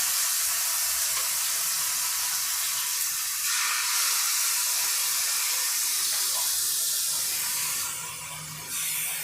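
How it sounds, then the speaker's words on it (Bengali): Chicken pieces frying in a little ghee over a medium flame, a dense close sizzle and hiss that holds steady and eases slightly near the end. "এইভাবে মাংসগুলো আমরা ঘিয়ের উপরে আস্তে আস্তে করে ছেড়ে দিচ্ছি।"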